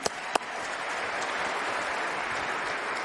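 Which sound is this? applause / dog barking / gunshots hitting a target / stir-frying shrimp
applause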